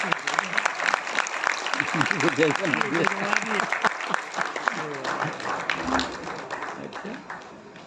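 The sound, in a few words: audience applause welcoming a guest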